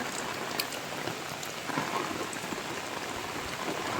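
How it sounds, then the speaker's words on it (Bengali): Rain falls steadily on a quiet village, a soft, even patter of drops filling the air at moderate distance with no voices and only occasional slightly sharper drips. "চারিদিকটা অনেক শান্ত, শুধু বৃষ্টির ঝিরঝির শব্দ।"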